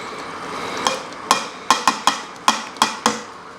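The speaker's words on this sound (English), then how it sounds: "now I'm going to put my kidney beans" Red kidney beans go into a pan of baked beans with a run of sharp knocks and taps, eight or so spaced irregularly, close and fairly loud over a quiet background.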